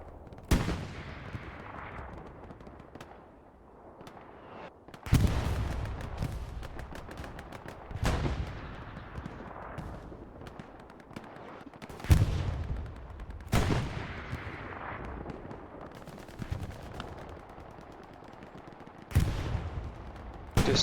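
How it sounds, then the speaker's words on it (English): Artillery fire in the World War II shooter Hell Let Loose during a competitive match: heavy booms land every few seconds, each followed by a rumbling decay, with steady battlefield noise between them and no talk. "Artillery drops and takes out supplies, it looks like"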